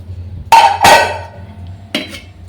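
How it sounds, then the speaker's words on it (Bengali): A few sharp clanks of a metal bowl of mashed bitter gourd and potato knocking against a rice pot, two close together, then another after a short pause. "এই ভাতের হাঁড়ির মধ্যে ঢুকিয়ে দেবো"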